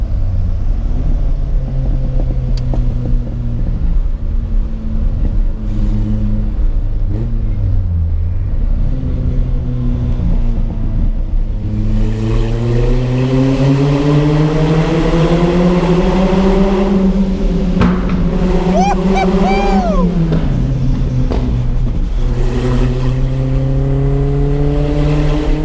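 A Renault Alpine A110 1600 SX Berlinette engine drones steadily from inside the car, then grows louder and more resonant as it enters a tunnel, its pitch rising and falling with acceleration and gear changes, with no talk over it.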